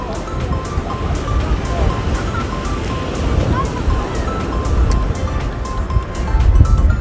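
Strong wind gusting along the Felixstowe beachfront by the pier, a constant loud roar and buffeting broadband rush with surf in the background and a voice speaking over it.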